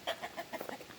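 Chickens cluck in a short run of repeated, bright, pulsing calls close by on a farm at feeding time, with no talk over them.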